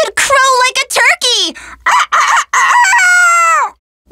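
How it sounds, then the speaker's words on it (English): A voiced rooster crow from a fantasy game character, a loud, drawn-out cock-a-doodle-doo with rising and falling pitch, delivered in several bursts with short gaps and then silence. "Wait, that was a rooster, wasn't it?"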